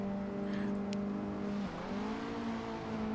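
A KTM X-Bow engine in Assetto Corsa drones steadily at a constant pitch, dips briefly as if shifting or lifting, then settles back into an even hum, close and continuous.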